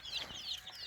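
Hens cluck in quick, chattering bursts while feeding close by, a brief, fairly faint burst of farmyard chicken calls with no talking.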